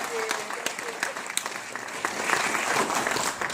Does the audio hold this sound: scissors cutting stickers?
no